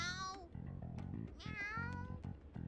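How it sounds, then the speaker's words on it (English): Repeated meowing of a noisy cat in the action game Persona 5 Strikers, several bright, insistent meows in quick succession over a low background music bed, with game voice sounds mixed in. "That sure is a noisy cat."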